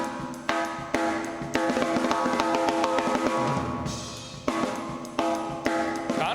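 Drum hits through a plate reverb with a bright, lingering metallic tail, a steady beat of sharp strikes smeared into a shimmering wash.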